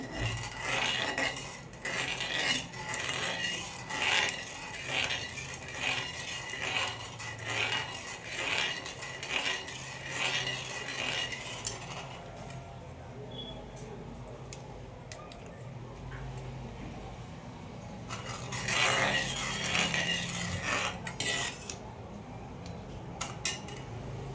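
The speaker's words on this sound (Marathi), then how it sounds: "साखर वितळून घेऊया." Sugar melting in a pan for Mumbai halwa is stirred with a utensil, giving a steady rhythmic scraping and rasping against the metal that pauses briefly midway and then resumes.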